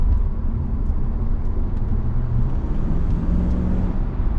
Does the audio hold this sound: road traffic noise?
yes